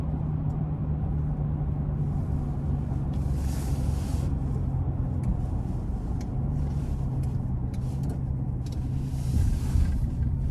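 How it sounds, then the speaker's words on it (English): A 2025 GMC Sierra 1500 SLE with the Duramax diesel pulling on the interstate, a steady low engine drone with road rumble heard from inside the cab, continuous and fairly loud. "I'm gonna take it on the interstate here, give it a quick pull."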